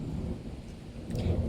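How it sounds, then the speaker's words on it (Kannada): Low, steady rumble of thunder with no rain falling, a breezy outdoor setting where the clouds have drifted away; the roll holds throughout and swells slightly near the end. "ಖಾಲಿ ಗುಡುಗು ಮಾತ್ರ ಬರ್ತಾ ಉಂಟು."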